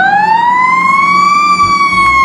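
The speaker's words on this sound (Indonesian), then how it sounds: "di sini ada mobil pemadam kebakaran" A loud, close wailing siren rises slowly and holds a high tone, like a toy fire truck's electronic siren, with a faint rumble underneath.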